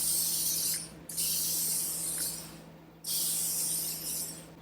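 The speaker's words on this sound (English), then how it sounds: "You can close it up and now it's a spray" Two long bursts of 3-in-1 lubricant sprayed onto an RV slide-out, each a loud, close hiss lasting a second or two, separated by a short gap, with no talking.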